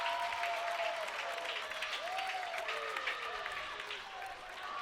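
A stadium crowd at a semi-final playoff ultimate frisbee game between the Dallas Roughnecks and San Diego Growlers cheers and roars steadily throughout, loud and continuous, with whistles and a faint announcer-like voice mixed in.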